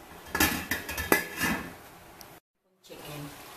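A lid is set on a pot of cooking pinakbet, several close metallic clanks and clinks of cookware, then a short silence and quiet kitchen noise.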